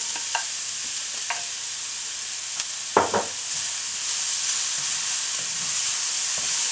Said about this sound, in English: It's been stir frying with the onions and the green onions.